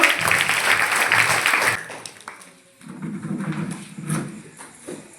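An audience at a school farewell gathering claps to welcome a speaker, a loud burst of applause that fades after about two seconds, followed by shuffling and low murmuring.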